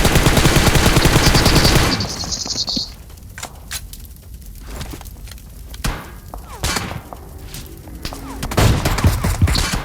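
Dense bursts of PUBG Mobile gunfire, a loud sustained volley at first, then scattered shots and thuds in a busier, quieter stretch.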